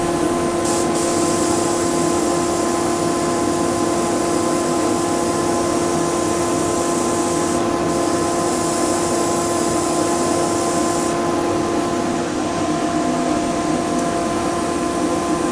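Yellow paint sprayed from a spray gun onto a turned wooden sunset bowl, a loud, steady, unbroken hiss lasting throughout, with a constant machine hum beneath it.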